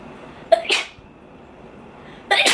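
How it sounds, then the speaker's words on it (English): Two sharp sneezes close together, then a quiet pause before another sneeze bursts out at the end, all close to the listener. "I have to sneeze."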